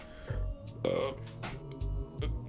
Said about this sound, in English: say excuse me after you burp